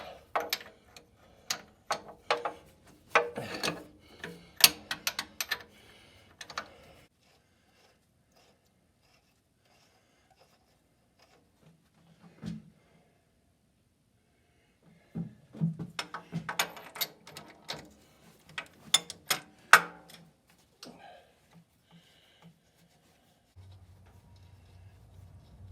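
Ratchet wrench loosening the main bearing cap bolts on a Cat 60 engine, bursts of sharp metallic clicking in close rhythmic runs separated by long quiet gaps and a few clunks, with no talking.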